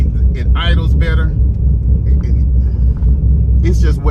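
A C6 Corvette engine idles with a steady low rumble underneath as a person talks over it in short bursts.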